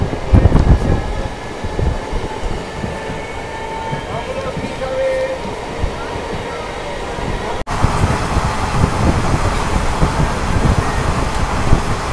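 A MEMU train runs from Asansol to Barddhaman, heard from inside the carriage as a loud continuous rumble with wheel and track noise and wind, with a brief jolt partway through.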